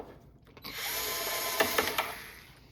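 A power drill whirs steadily for about two seconds, up close, while removing the side plate screws from a Minn Kota trolling motor, with a few sharp clicks near the end.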